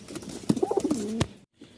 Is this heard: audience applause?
no